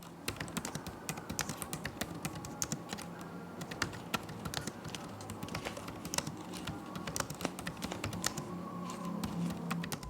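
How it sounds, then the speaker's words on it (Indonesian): Rapid typing on a 2022 Acer Nitro 5 AN515-58 laptop keyboard, a continuous stream of light plastic key clicks, close and clear with no talking. "contoh suara feedback dari keyboard Acer Nitro 5 AN51558 edisi tahun 2022"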